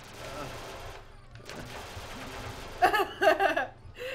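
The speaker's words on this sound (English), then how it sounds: "Ooh, yes, Gatling gun." A Gatling gun firing in the retro-style video game Sonic Duck Game, a short burst of rapid, rattling shots near the end, following a stretch of quieter game sounds, with people talking and reacting.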